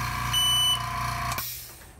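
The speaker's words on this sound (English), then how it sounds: "the time cycle commences, and the early warning will come at 5 seconds" A pressure-switch-activated timer sounds its early-warning alarm: a single electronic beep tone of under half a second, clear and close, over a steady low compressor hum that drops away near the end.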